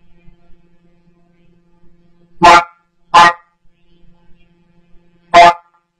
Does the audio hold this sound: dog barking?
yes